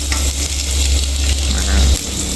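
Chopped garlic fries in hot oil in a pan while being stirred and turned, a loud close sizzle with scraping stir sounds and a low rumble underneath.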